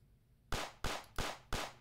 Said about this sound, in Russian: Ого, выстрелы и слышу.